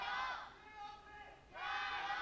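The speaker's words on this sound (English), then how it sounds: "The TOP fans representing as loud as they can." Esports fans of Topsports Gaming fill an arena at a 2018 LPL Spring Split match against Vici Gaming: a loud, roaring crowd cheer that surges, dips midway, then swells again.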